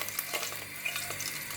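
Broken star anise pieces and cinnamon sticks frying in hot oil in a heated pan for Thai fish soup, a steady close sizzle with faint crackles and occasional stirring scrapes.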